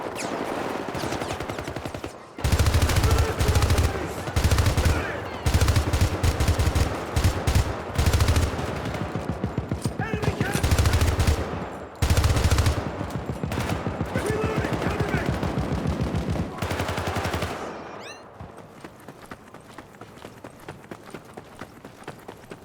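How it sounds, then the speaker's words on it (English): Video game gunfire in Syndicate (2012) crackles in dense bursts, with fast rhythmic footfalls as the character runs under fire, loud and continuous before easing off near the end. "running while getting shot at is pretty intense"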